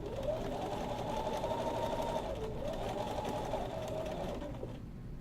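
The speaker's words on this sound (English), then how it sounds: "and sew down that last side." A sewing machine stitches down the last side of a men's shirt placket. Its close, steady motor whir runs almost unbroken for about five seconds, with one brief pause in the middle before it resumes.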